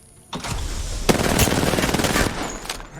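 Rapid sustained gunfire in an Apex Legends-style shooter with Bloodhound and the Kraber, a dense continuous burst of shots lasting about two seconds after a short quiet start, then a few scattered trailing pops.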